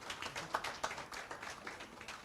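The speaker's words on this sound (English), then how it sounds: "Please, let's give a round of applause to Prof." An audience claps for a cardiologist at a Ghanaian cardiology society's scientific meeting, a steady wash of many hands filling the whole moment with a few sharper peaks standing out.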